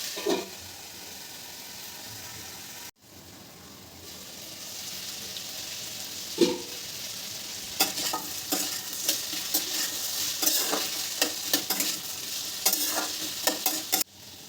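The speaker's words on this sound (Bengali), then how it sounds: "সবজিগুলোকে একটু তেলের সাথে নাড়িয়ে আমি এটাকে ঢাকা দেবো 1 মিনিটের মতন।" Cut potatoes, pumpkin and pointed gourd being stirred into hot oil in a pan, a steady sizzle broken by scraping, clattering stirs that grow busier toward the end.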